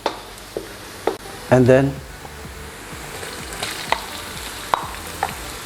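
Garlic and onion fry in hot oil, sizzling steadily with a loud burst of stirring and crackle early on, then softer scraping under a brief spoken phrase.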